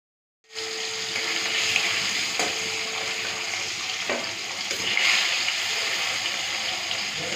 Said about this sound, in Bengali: এরপরে এক একটা করে শোল মাছগুলো ভেজে নেব